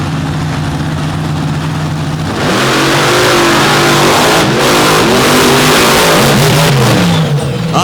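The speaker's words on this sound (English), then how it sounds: "540 cubic inches in the back of both of these trucks." Race trucks with 540 cubic inch engines at a drag racing event, idling loudly and then roaring up through rising revs, close and very loud with no talk over them.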